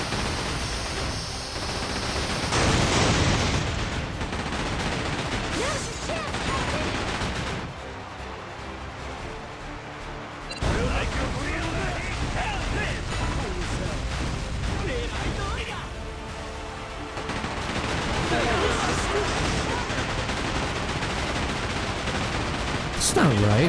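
Rockets fire and explode in the video game Like a Dragon, a constant loud barrage of booming blasts and crackling detonations that runs on without a break and swells again near the end.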